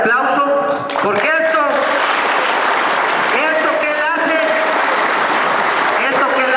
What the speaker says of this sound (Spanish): el licenciado José María, para quien pido un fuerte aplauso